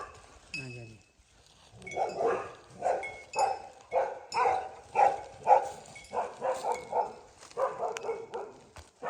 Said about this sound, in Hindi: ये आए कुत्ता।